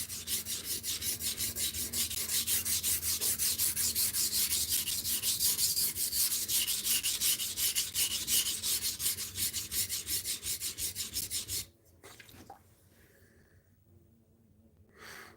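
A knife blade grinds on a Venev 80 grit sharpening stone in rapid, regular rasping strokes for about eleven seconds, close and fairly loud, then stops, leaving faint handling noise.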